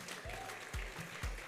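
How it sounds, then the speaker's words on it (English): Tepid applause from an audience at a Ladies in Sports event, a faint scattering of claps over a low background hum with a few louder thumps. "the clap is very tepid"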